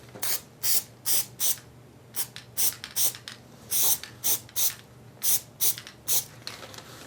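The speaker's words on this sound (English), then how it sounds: "we'll just spray a little glue on there" Spray adhesive being sprayed onto a truck door panel during upholstery work, heard as a series of short, close hissing bursts in an irregular rhythm with brief gaps between them.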